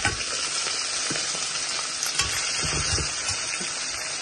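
Onion and garlic fry in hot oil, a loud, steady close-up sizzle with occasional stirring clicks and scrapes throughout.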